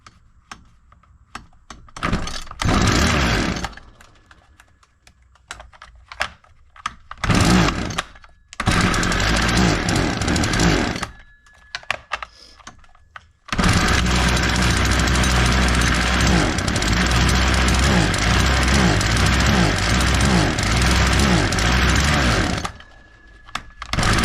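A gas weed eater with a fuel system fault is pull-started repeatedly, sputtering in short loud bursts between silences, then catches and runs with a steady close buzzing roar before cutting out.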